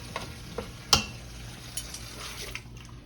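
Black-eyed peas being stirred with their pot liquor in a pot, soft wet scraping and sloshing with one sharp clink of a spoon against the pot, close and without voices.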